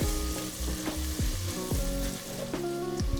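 Ingredients for lobster bisque cook in a pot, giving a continuous, fairly loud sizzle with spoon scrapes and stirring knocks recurring throughout.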